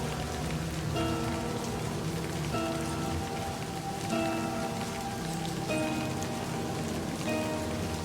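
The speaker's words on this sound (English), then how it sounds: "You cannot linger in the rain any longer." Steady rain falling in a video game, a dense continuous patter running evenly throughout under faint tonal music notes.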